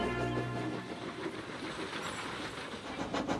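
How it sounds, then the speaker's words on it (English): A train rolls steadily along the track with a continuous rumble and rail noise, broadband and fairly close, with no voices over it. "Soon enough, Percy was on his way with his train."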